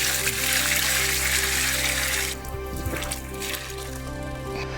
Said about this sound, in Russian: Вот перелью воду из казана в кастрюлю через сито.